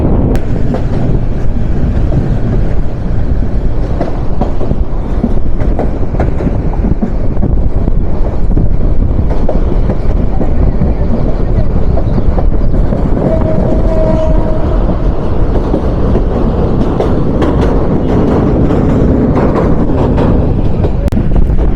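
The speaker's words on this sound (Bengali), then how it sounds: "পঁয়ত্রিশ নং তিতাস কমিউটার প্রবেশ করতে চলেছে ঢাকা বিভাগের কিশোরগঞ্জ জেলার ভৈরব উপজেলার ভৈরব বাজার রেলওয়ে জাংশনে" Titas Commuter 35 train heading toward Bhairab Bazar junction, heard from the roof: a loud, continuous rumble of wheels on rails with heavy wind buffeting the microphone, unbroken for the whole stretch.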